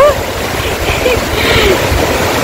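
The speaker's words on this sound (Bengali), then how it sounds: "সমুদ্রের একদম সামনে চলে এসেছি," Sea surf washing onto an empty beach at Tajpur, a steady close wash of breaking waves with faint voices in the background.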